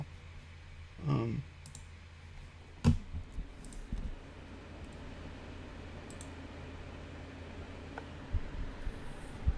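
A computer mouse clicks a few times on a sign-up form, sharp isolated ticks at close range over a steady low room hum, with no talking.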